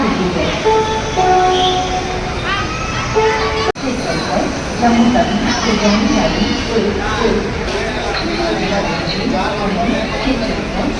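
A busy railway station hums with crowd chatter, announcements and a train's rumble in the background, while nearby voices talk over the steady din.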